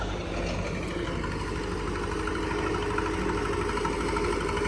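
A running MTZ-80 tractor engine, which is powering a GALTECH OVM 25 seed-cleaning machine processing soybeans, gives a steady, loud, low diesel drone with rumbling vibration and no break.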